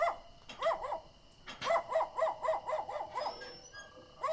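A dog barks over and over in quick, high yapping bursts, close by, with a short pause between volleys.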